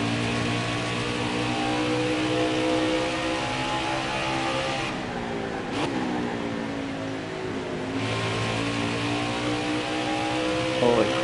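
A race car engine drones loud and sustained in a sim racing game set in the Xfinity series at Watkins Glen, shifting pitch up and down as the car accelerates and revs.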